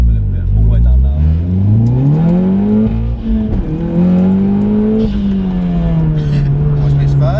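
A stage 2 tuned Audi S1 accelerates hard in first gear, its engine note climbing steeply, then dropping briefly at the shift and rising again into second, loud and close inside the car while occupants talk.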